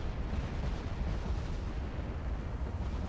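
Battleship naval gunfire in Ultimate Admiral Dreadnoughts, a dense continuous rumble of distant heavy guns and explosions blending into a low, steady roar with no clear separate shots.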